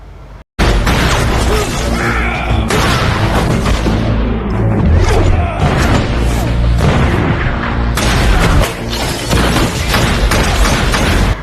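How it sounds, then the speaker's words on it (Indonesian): A cowboy film shootout in a bar, with loud, dense bursts of gunfire, booms and crashes running almost continuously and a shotgun involved, under faint film dialogue. "Dan baku tembak pun ala koboi kembali terjadi di bar itu."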